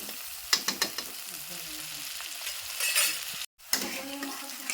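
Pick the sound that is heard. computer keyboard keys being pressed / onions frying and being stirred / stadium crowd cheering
onions frying and being stirred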